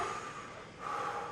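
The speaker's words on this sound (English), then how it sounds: "Take a deep breath." A patient draws a deep breath during a stethoscope exam in a nursing class, a steady airy rush of inhalation lasting over a second, close and unbroken by talk.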